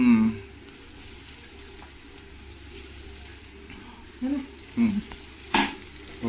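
Onion and garlic fry in a hot kadai, giving a steady background sizzle with a few louder stirring scrapes near the end, no talk over it.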